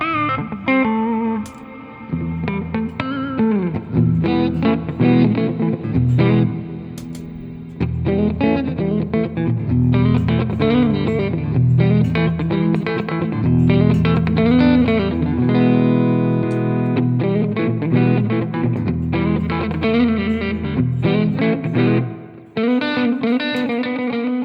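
An electric guitar runs through a Dumble amp model on a Tone X1 pedal, playing chords and melodic phrases with a warm overdriven tone and some chorus and reverb over about twenty-five seconds, with short pauses between passages.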